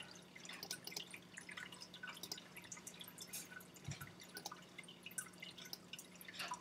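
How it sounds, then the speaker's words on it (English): Steady trickling and dripping water from a nearby fish tank with a low constant hum underneath, continuous and fairly quiet. "there's a fish tank right here. It's kind of loud."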